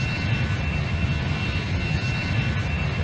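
Steady roar of a Boeing MD-90 airliner's jet engines during takeoff, heard from inside the cabin as a loud, unbroken rumble with no talking.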